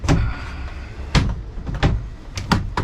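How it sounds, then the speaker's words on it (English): A tight cabin door on a 1994 Grady White 24 boat opening, with several distinct knocks and clunks at uneven intervals, close and fairly loud, with no talking. "Well, that door's tight."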